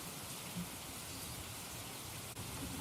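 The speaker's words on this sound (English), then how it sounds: "A torrential downpour." Heavy torrential rain pours steadily beside a creek in Texas, a dense, unbroken hiss of downpour close by with no voices.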